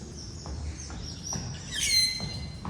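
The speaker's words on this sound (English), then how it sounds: "Every time I move the camera, you start squawking at me, huh?" Zoo birds in a warm indoor enclosure give repeated chirps and calls, with one louder squawk near the end, fairly close and without talk.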